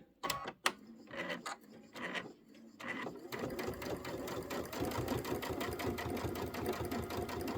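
A sewing machine pieces quilt fabric for a candy corn quilt: after a few handling clicks and rustles, a steady, rapid stitching run starts and continues close and even to the end.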